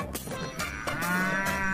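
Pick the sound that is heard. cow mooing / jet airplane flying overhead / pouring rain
cow mooing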